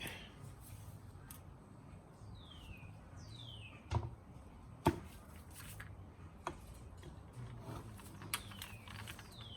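Screws being backed out of a carburetor from a locked-up motor: small metallic clicks and ratcheting ticks with a few sharper taps, close and quiet against a low steady background hum.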